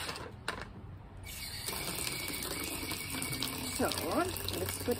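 Water runs from a tap in an outdoor garden setting, a steady moderate stream with a brief quiet start and some clinking sounds near the end.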